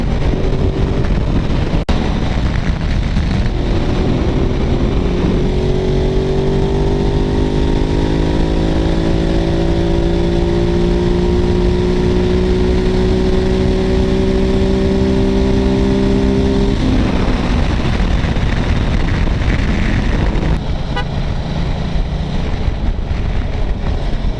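A Ducati Multistrada motorcycle engine droning loudly under wind roar while riding, its pitch climbing through several rising sweeps as it accelerates through the gears, then easing off near the end.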